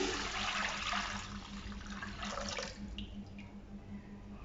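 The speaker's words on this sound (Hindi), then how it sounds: "जो गोलगप्पों के लिए हमने खट्टा पानी तैयार किया था, उसको एक बॉयल आने तक हम पका लेंगे।" Sour tamarind water for pani puri coming to a boil in a pot, a continuous hissing bubble and simmer with faint pops, close up and without talk.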